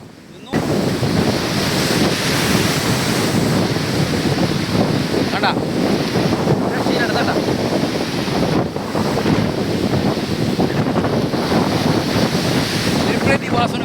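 Surf roars continuously with waves breaking on the shore at Kuzhupilly Beach during a sea surge, buffeted by heavy wind noise against the microphone.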